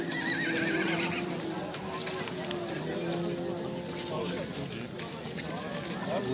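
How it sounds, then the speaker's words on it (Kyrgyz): A shod horse at an open horse market, with a distant whinny and hoof clip-clops amid a steady crowd murmur and nearby voices talking. "Мына баяғы тақаланған ат екен"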